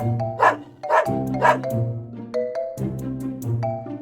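Cartoon dog Pup gives a few short barks in a storybook scene, set against a bright musical backing with steady tones running throughout.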